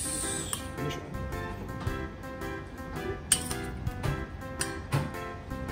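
Light clinks of a plate and utensils as fried chicken nanban soaked in nanban vinegar sauce is moved onto a dish, scattered soft taps over faint kitchen background noise.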